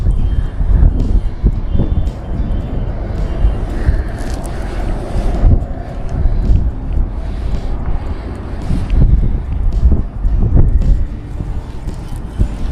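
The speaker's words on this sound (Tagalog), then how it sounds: "Kay lamig ng hangin na dumadampi sa batok ko." Strong wind buffets the microphone in continuous low gusts, with water and waves washing around on open water.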